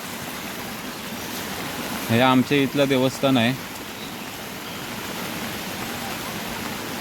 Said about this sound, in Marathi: आज पाटपटीपासून तर खूपच भयानक पाऊस पडला आहे